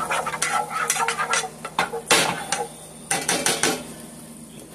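Spoon stirring melting apricot-honey glaze in a pan, with repeated scraping and clinking strokes in an uneven rhythm, close and fairly loud, with a soft sizzle underneath.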